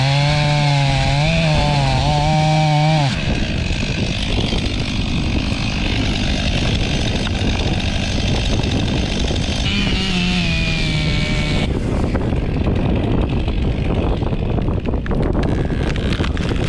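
A new chainsaw cuts into a tree. The engine runs loud and steady the whole time, with its pitch rising and falling as the chain bites into the wood. There is a brief idle or rev change near the start and another midway through.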